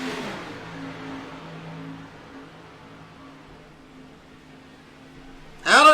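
Honda CRX race cars run at Talladega, a steady mid-pitched engine drone holding for several seconds, fading slightly, before a sharper burst of sound at the very end.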